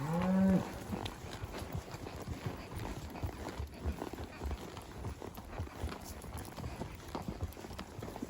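Herd of cows being driven down toward a gate on a forest gather, a loud moo at the start followed by shuffling hooves and quiet rustling movement.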